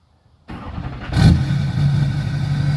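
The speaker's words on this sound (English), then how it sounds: "let's do remote car start here" A car's engine starts by remote start, kicking in with a brief rising surge of starter and ignition and then settling into a steady, fairly loud idle rumble close by, with no one talking.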